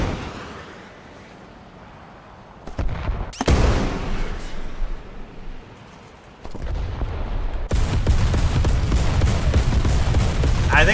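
Tank cannon fire in War Thunder: a sharp blast breaks through a quiet lull, then dense rumbling bursts and heavy, sustained firing build up loud and close, with some talk mixed in.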